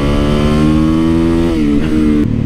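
A motorcycle engine holds a loud, steady, close rev that dips in pitch after a moment, then drops off at the end.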